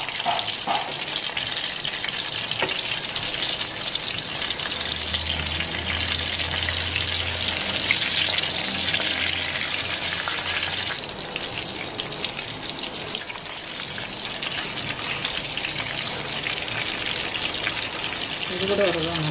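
Rava-coated fish fries gently in a pan over a low flame, giving a steady, close, moderate sizzle with a faint watery crackle throughout, no voices over it.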